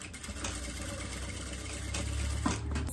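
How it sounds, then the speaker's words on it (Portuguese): A sewing machine stitching fabric for a diaper holder, giving a steady, close mechanical whir that hums evenly for a few seconds. "Agora, eu vou costurar daqui até aqui, tá?"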